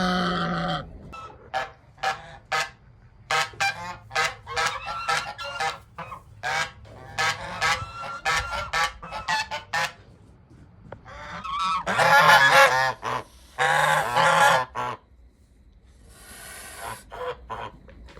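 Several domestic geese on a homestead honk in repeated bursts, loud and close, with overlapping calls swelling into a noisier cluster near the end before tapering off.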